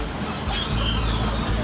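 A black retinta hen clucks softly and briefly at a poultry breeding farm, heard close over a steady low murmur of background noise.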